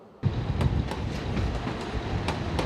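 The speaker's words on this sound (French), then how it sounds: "Tu les as entendus, les trains?" A train rolls past close to a housing development in Toulouse, with a steady rumble and repeated clickety-clack of wheels over rail joints.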